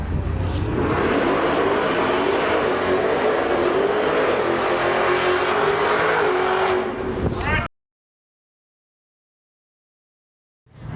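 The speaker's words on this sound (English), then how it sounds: "This thing is a monster. Y'all check it out. It's a supercharged Shelby." A supercharged Shelby F-150 pickup truck's engine roaring loud and close at a track car show, holding a sustained high rev with rising pitch for several seconds before cutting off abruptly into silence.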